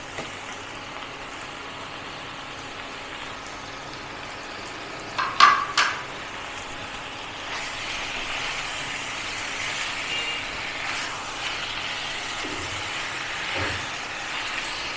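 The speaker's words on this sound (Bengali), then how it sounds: "এর সাথে চিকেনটা একটু ভাজবো" Large and small chicken pieces fry in a pan for a Bengali coriander chicken curry, giving a steady close sizzle with a few sharp clatters partway through.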